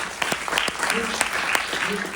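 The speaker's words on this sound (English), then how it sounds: "So please give them a round of applause." An audience applauds at the opening of the Somali Week Festival in London, a steady mass of clapping with scattered sharp claps, while voices murmur and talk beneath it.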